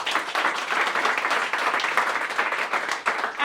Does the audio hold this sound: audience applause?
yes